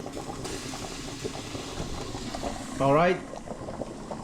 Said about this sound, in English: let it boil high heat for 2 minutes